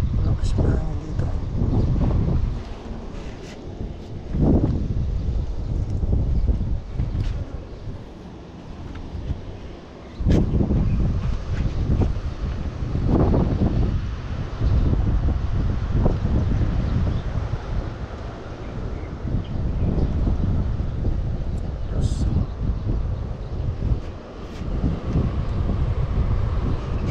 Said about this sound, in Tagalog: Lakas pa hangin dito.